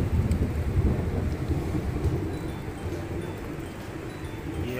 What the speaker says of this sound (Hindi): और क्या जोरदार तूफान उठाया है।